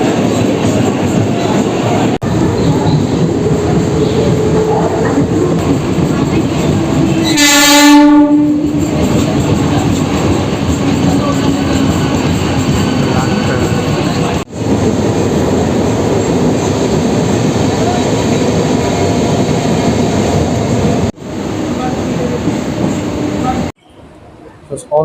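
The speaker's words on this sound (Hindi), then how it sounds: "ट्रेन" A Mumbai local train bound for Churchgate rumbles and rattles along the tracks in a loud, continuous roar. A brief horn blast sounds near the start, and the noise drops away at the end.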